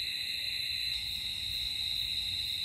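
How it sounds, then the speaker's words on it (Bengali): Crickets chirp around a rural pond at night in Bangladesh, making a dense, unbroken high trill. The sound is loud and steady throughout, over a faint low rumble, with no voices. "চারিদিকে ঝিঝি পোকার ডাক।"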